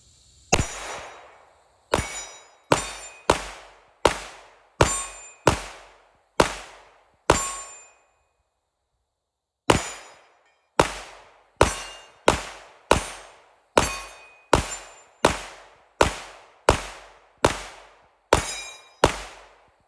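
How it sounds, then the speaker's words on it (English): Pistol shots fired from 20 yards at steel targets: about twenty loud, sharp cracks, each followed by a bright metallic ring, in steady strings with a short pause midway. "Just take some shots here."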